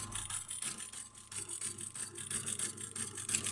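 A sock knitting machine running at reduced speed gives off a steady mechanical whir with a fast, regular pulsing rhythm, close and moderately quiet, with no voices.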